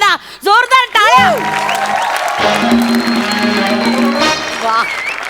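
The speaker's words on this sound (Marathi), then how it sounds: "जोरदार टाळ्या." Applause from the audience at an awards ceremony on a Marathi comedy show, a sustained clapping wash mixed with cheering and musical tones, following a voice at the start.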